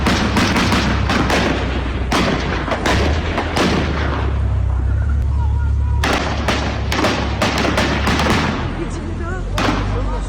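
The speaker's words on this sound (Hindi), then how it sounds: "तो गोलियों की आवाज आपने सुनी" Gunfire crackles during a terrorist attack on a church in Dagestan, Russia, with repeated loud bursts and shots over constant heavy background noise.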